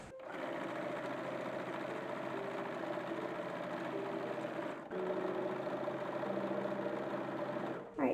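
A sewing machine runs steadily, stitching a printed cotton 1850s-style dress skirt, with a continuous close whirring hum and a brief pause midway before it resumes.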